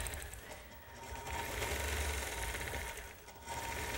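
A sewing machine stitches in the ditch along a seam guided by a ruler, its fast, even mechanical chatter running close and steady, easing briefly about halfway through and then resuming.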